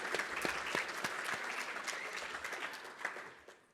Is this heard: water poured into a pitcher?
no